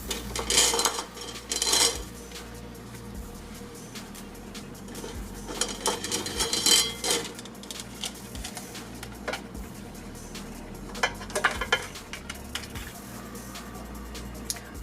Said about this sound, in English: So next we're going to add another layer of pasta.